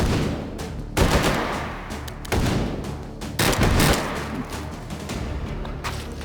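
Short bursts of gunfire crack out in the H3VR shooting game, fired in three-round hyperburst mode: several sharp, loud volleys spaced about a second apart, each shot fading into a short echo, with no talking.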